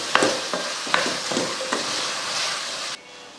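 Vegetables for sambar stirred and sautéed in a hot pan with turmeric and salt, sharp scraping stir strokes repeating every half second over a steady sizzle, close and loud.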